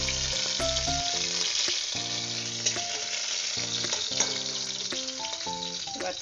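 Tilapia fish frying in oil in a home kitchen, a continuous close hiss and crackle of sizzling with occasional stirring rattles, and tonal music playing underneath.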